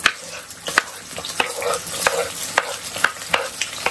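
Green chilies tempering in hot oil in a home kitchen pan, a steady close sizzle with sharp stirring scrapes and clinks recurring about every half second to second, no talking.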